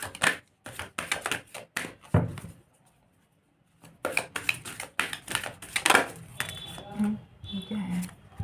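Tarot cards are shuffled and drawn in quick bursts of crisp papery clicks and flicks, broken by a short silent pause, with a voice talking over the later part.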